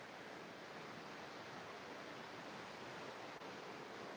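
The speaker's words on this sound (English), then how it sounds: "Be aware of the sound of the water." Steady, broadband rush of flowing water, like a stream or waterfall, continuous and even at a moderate level with no voices over it.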